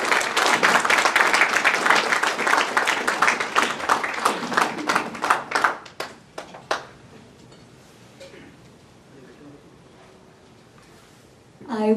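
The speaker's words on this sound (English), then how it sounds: "I would like for everybody to give one more round of applause to the Honorable Justice Surya." Audience applause at an Indian community event in Seattle, a dense wave of clapping that thins out after about six seconds into scattered claps, then near silence before a fresh burst rises at the very end.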